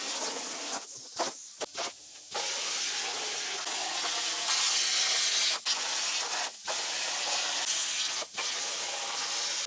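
A cutting machine runs a cut on parts for a jet boat, giving a steady, loud hiss with brief dropouts and clicks along the way, and no voices over it.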